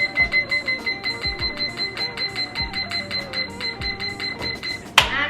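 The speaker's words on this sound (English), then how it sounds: "I'm gonna set my timer for 30 minutes." A kitchen timer being set for 30 minutes while baking vegan garden crackers gives a rapid, regular run of high electronic beeps, ending in a sharp click.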